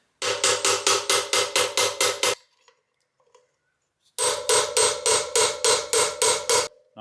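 Rapid metallic hammer blows driving a bearing into a Yamaha Tenere 700 motorcycle, in two bursts of about eight strikes each, loud and close, separated by a short quiet pause.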